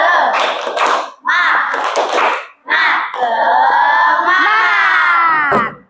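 A class of students performs the tepuk semangat clapping chant, with short bursts of rhythmic clapping and shouted group voices. It ends in a longer sustained collective shout, close and loud.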